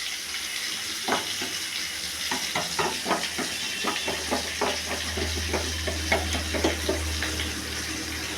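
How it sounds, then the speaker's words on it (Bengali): Spice paste sizzles steadily in a pan for a Bengali soybean curry with asafoetida, ginger and ground melon seeds, with a run of irregular scraping stirs over the hiss and a low steady rumble underneath. "এবার এটা নাড়াচাড়া করে দিই।"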